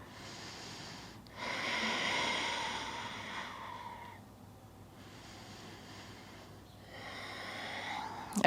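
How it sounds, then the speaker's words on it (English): Deep, slow breaths taken while holding a yoga pose in a vinyasa flow, each inhale and exhale a soft airy rush, close and steady, with a quiet pause between them and no talking. "Let's take about 1 to 2 more breaths here."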